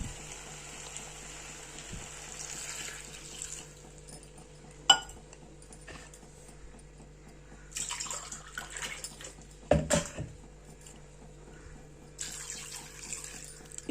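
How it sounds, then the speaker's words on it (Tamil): Water pours into a pot of Tamil-style mutton and potato curry, a steady trickling splash with a few clinks of a vessel against the pot rim, heard alone at moderate loudness. "இப்போ இந்த குழம்புக்கு தேவையான தண்ணியை ஆட் பண்ணிக்கலாம்."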